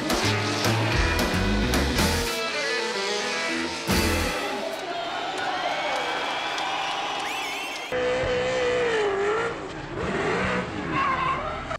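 A drift race car revs hard and skids through a night drifting session, engine howling with squealing tyres in several loud, abrupt bursts.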